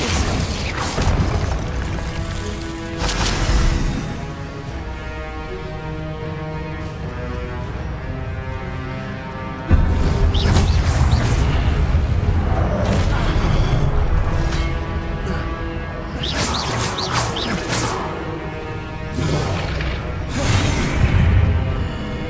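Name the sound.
Confringo blasting spell in the video game Hogwarts Legacy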